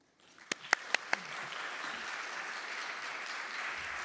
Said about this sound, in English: Please help me welcome Dr. Mihnea Tănăsescu with a warm Studium Gent applause.